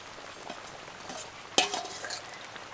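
Spoon stirring fried prawns into a thick elephant foot yam curry in a pan: a soft, continuous bubbling under a sudden sharp scrape of metal against the pan, then a few lighter stirring scrapes.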